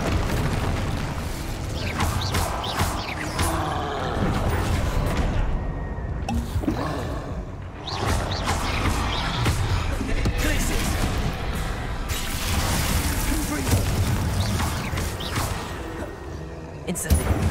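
A fire spell cast in a video game: a sustained roaring, crackling burst of flame with booming thuds, running loud and continuous throughout with brief dips, set in a letter-finding quest.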